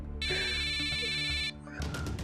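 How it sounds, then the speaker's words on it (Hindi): A telephone rings with a steady electronic tone, loud and continuous for over a second before cutting off, with someone speaking Hindi in a distressed voice underneath. "हम नहीं उठाएंगे फोन"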